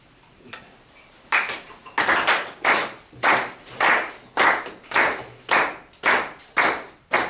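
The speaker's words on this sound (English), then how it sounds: "I want you to just start clapping with me" A group of people clap together in time, steady and evenly spaced claps ringing loudly in a room after a brief quiet start, with no talking.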